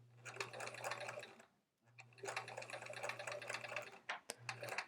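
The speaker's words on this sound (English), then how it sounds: "I can sew these two together." A sewing machine stitches quilt pieces together in three bursts of rapid, whirring needle chatter, two long and one short, with a brief pause between the first two. It sounds close and steady, with no voices.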